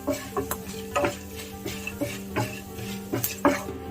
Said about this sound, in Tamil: ஒரு 1 மினிட் லோ ஃப்ளேம்லேயே நல்லா இது அரோமா வர வரைக்கும் நம்ம ரோஸ்ட் பண்ணி எடுத்துக்கலாம்.